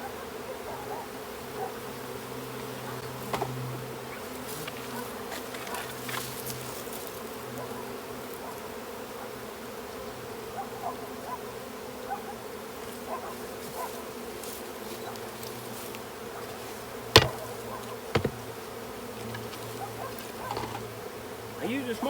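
Honey bees swarming around an open hive during an early spring inspection, a continuous low droning hum that stays steady throughout, broken by a few faint clicks and knocks.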